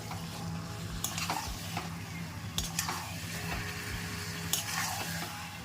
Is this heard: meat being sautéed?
yes